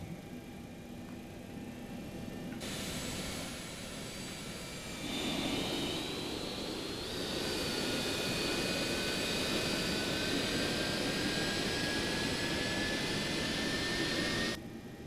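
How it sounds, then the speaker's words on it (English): Jet engine of a FlyJSim 737-200 in the X-Plane flight simulator spooling up during start, a steady roar with rising whine that grows louder in steps and holds at a loud, continuous level before cutting off. "Okay, engine number 2 is running."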